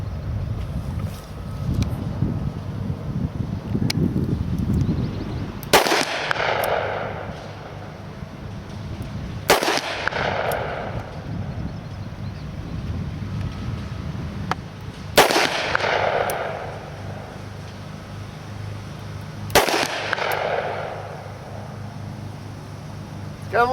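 Smith & Wesson M&P 340 revolver firing .357 Magnum wadcutters outdoors, four sharp, loud shots spaced a few seconds apart, each with a short ringing decay, over steady wind noise.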